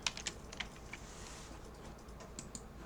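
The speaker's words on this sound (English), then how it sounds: "I'll type UITableView" Quiet, close tapping on a computer keyboard, a short run of irregular keystrokes over faint room hum.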